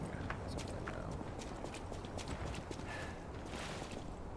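Horse hooves clip-clop in the video game Lies of P, a quick series of hoof knocks over a steady background, with someone talking faintly underneath.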